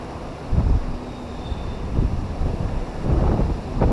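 Strong gusts buffet the microphone during a power outage in a Thai home, rumbling in uneven bursts about every second with a low, rough roar and no clear talk.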